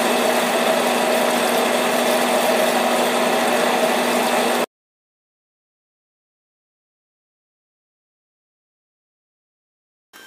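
A milling machine fitted with a finishing cutter plunges 5 mm into a part as it turns, giving a steady, dense mechanical hum with tonal whine that runs evenly for about four and a half seconds, then cuts off abruptly into silence.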